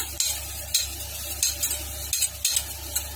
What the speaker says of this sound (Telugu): ఇవి ఆయిల్ లేకుండా ఫ్రై చేసుకోవాలి.